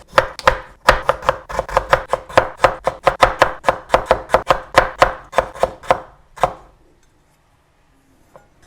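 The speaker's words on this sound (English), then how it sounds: "I'm just going to peel it and chop it into small pieces" Beetroot chopped into small pieces with a knife on an old cutting board: a loud, close run of about twenty sharp thuds in a brisk, even rhythm, then a pause and one last chop before near silence.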